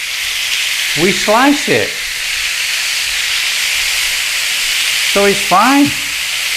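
Pork sizzles on a grill with a steady broad hiss, as someone speaks briefly twice over the charring meat.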